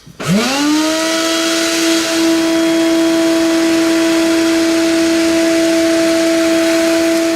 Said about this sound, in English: There's a little bit of water coming out, so go ahead and kick on the vacuum.